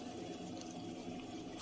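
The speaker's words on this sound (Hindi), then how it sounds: "तो ये देखें मैं इसमें अब पानी डाल रही हूँ।" Water poured into a pot of simmering korma gravy, a steady continuous splashing and trickling that runs the whole moment, close and moderately loud with no voices.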